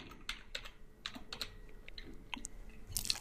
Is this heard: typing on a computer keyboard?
yes